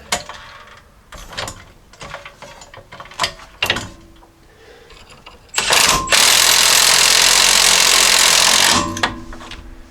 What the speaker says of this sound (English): Now I'm going to get our sway bar mount bolted in.